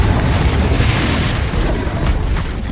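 A loud, sustained roaring blast from the Confringo fire spell in the Hogwarts Legacy video game, a dense, noisy explosion that fills the whole clip without a pause.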